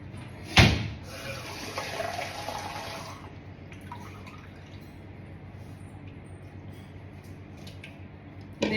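Water is poured into besan batter for alu vadi, starting with a sharp knock and then a steady pour lasting a few seconds that fades into quiet room noise.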